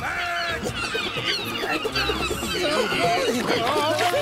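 Harsh squawking bird calls, several in quick succession, with voices talking underneath and around them.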